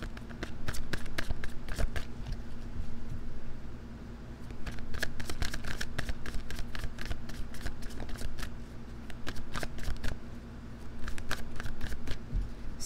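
Tarot cards shuffled by hand in a repeated riffling, flicking pattern, close and fairly loud, with a brief pause near the middle and no talking.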